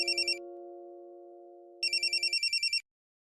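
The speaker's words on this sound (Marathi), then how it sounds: "आता पम्मीजी का फोन करतायत?" A telephone rings twice in short electronic bursts, a steady tone sounding between them, clear and close with no talk over it.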